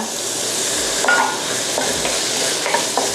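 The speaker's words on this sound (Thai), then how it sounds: "ถ้าตรงไหนยังขาวๆอยู่ก็ผัดเข้าไป" Tofu is stir-fried in a pan, with a steady bright sizzle and a few spatula scrapes and knocks, close and loud, with no speech.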